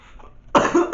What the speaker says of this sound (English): I still got the fucking cough.